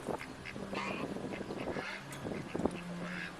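Ducks quacking and geese honking in a noisy, overlapping chorus of calls, close by in an outdoor patio in Tlalpan as the birds crowd around for bits of bread.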